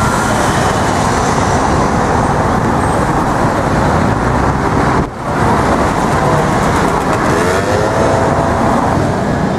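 Dense, continuous traffic roar at a busy Paris intersection, with cars and larger vehicles passing close by in a steady wash of engine and tyre noise, a brief dip midway, no talk.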